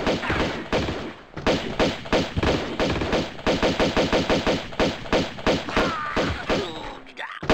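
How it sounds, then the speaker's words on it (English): Rapid bursts of gunfire from the video game Tomb Raider 2, a dense run of loud repeated shots with brief gaps, ending in a short squealing cry and silence. "Oh no, I shot a monk."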